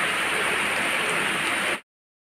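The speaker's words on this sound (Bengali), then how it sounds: "দারুণ বৃষ্টি, দারুণ বৃষ্টি।" Heavy rain pours steadily outdoors, a dense continuous hiss close by for about two seconds before cutting off abruptly.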